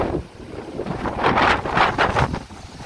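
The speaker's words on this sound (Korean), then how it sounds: "바람이 많이 불긴 하는데" Strong wind gusts buffet the microphone at a seaside harbor ahead of an approaching typhoon, roaring in surging waves with rough low rumble and no speech.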